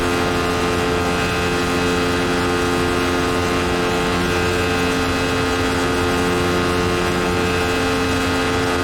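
A Radical SR8 race car in the iRacing game cresting Raidillon at Spa-Francorchamps, its engine droning steadily with a tonal whine as the revs sag, loud and alone.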